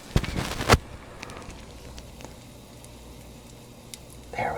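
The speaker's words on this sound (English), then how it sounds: "Oh, I can hear it cooking already." French bread for French toast frying in butter in a pan, a soft steady sizzle that follows a couple of sharp clatters as the bread goes in, heard up close.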